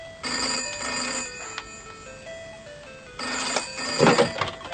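A telephone bell rings indoors in two clear bursts separated by a pause, loud and close, with a brief clatter near the end of the second ring and no speech over it.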